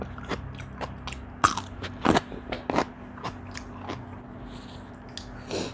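Spicy salad of cockles and squid eggs being eaten, with a string of close, crisp bites and crunches in an uneven rhythm, a few louder snaps, and quieter chewing between them.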